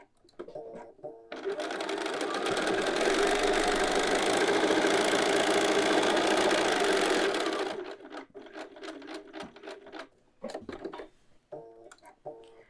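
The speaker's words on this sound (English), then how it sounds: "we're sewing from hem to hem. It's a long seam." A sewing machine runs a long continuous stitch along a garment hem for about six seconds, steady and close, followed by scattered handling noises as the fabric is repositioned.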